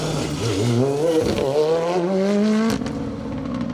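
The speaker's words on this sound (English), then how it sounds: "Ollie O'Donovan, Ashley Morris firing that Hyundai down the hill here." Hyundai rally car braking hard downhill into a bumpy, loose braking zone on a rally stage, engine note rising and falling through downshifts, loud and close, with tyre scrabble before the revs drop away near the end.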